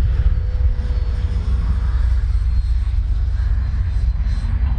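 Freewing JAS-39 Gripen RC jet plane in flight, a steady, fairly loud whine and rush of its ducted fan that holds at an even level throughout with no talking.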